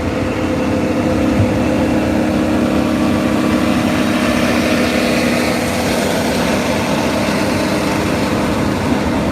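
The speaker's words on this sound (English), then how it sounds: "Let's see if we can hear the engine here" A vehicle engine runs on the road with a steady, loud, unbroken drone and rumble that holds a constant level throughout, with no voices.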